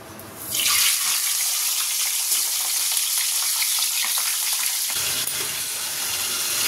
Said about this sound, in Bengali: এই যে মাছগুলো এখানে একটা একটা করে ভেজে নিচ্ছি